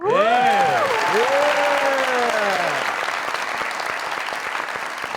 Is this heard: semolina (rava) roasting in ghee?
no